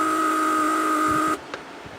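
A steady mechanical hum of a repaired Mercedes S320 door lock vacuum pump, bench-tested operating the headrest release, runs, then cuts off abruptly, leaving near quiet with a faint click.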